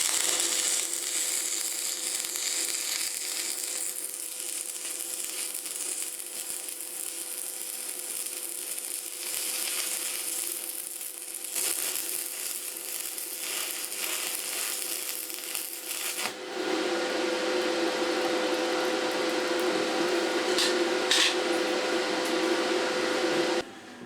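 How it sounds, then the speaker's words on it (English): Arc welding with a welding electrode onto a rounded-off bolt: continuous crackling, sizzling buzz with irregular pops, growing harsher and brighter partway through and running unbroken to the end. "I'm going to take a welding electrode and we're going to weld in there"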